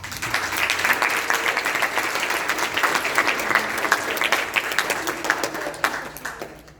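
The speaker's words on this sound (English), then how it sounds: "Give yourselves a round of applause." Graduation audience at a Christian academy ceremony applauding steadily, a dense, sustained wash of many hands clapping that holds for several seconds before starting to taper at the end.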